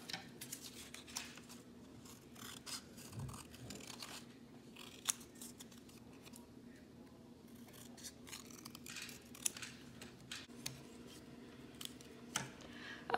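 Scissors snip out paper leaves for a pop-up card in a classroom art project, a steady run of small, quiet crisp cuts and rustles close by with no talking.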